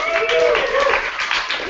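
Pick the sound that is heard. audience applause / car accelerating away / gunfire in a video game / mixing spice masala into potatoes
audience applause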